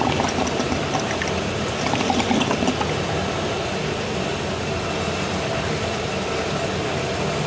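Water rushes steadily out of a vapor blasting cyclone as it is cleaned out, a loud, dense, continuous hiss and gurgle with no talking.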